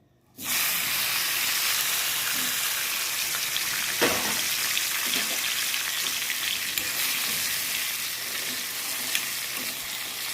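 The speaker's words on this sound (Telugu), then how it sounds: "కొంచెం పల్లి నూనె వేసుకొని ఇప్పుడు దోస గింజలు వేసుకుందాం." Cucumber seeds frying in peanut oil for a rotis chutney, a steady bright sizzle that starts abruptly and holds throughout, with occasional faint stirring scrapes and small pops.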